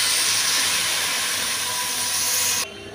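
Boiling water poured into a pot of rice for rooster pulao makes a loud, steady steaming hiss and rush that lasts over two seconds, then drops abruptly to a quieter simmering hiss near the end.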